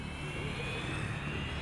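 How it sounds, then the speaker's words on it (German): An airplane in the video game Dead Rising 3 drones steadily with a jet-engine roar, a sustained, fairly quiet whine holding over the whole moment. "Jawohl, Flugzeug incoming!"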